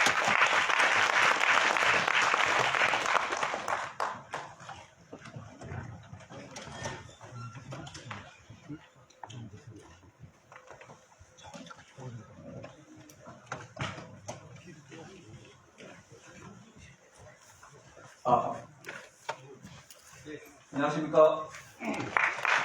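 An audience at a city council policy forum on rail planning gives a dense wash of applause for a speaker that fades after about four seconds, followed by quiet room noise, shuffling and scattered knocks.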